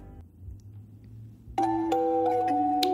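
Bell chimes from a rap beat ring out as bright, sustained tones with a sharp entry, layered over a steady low bass line that carries through the whole passage.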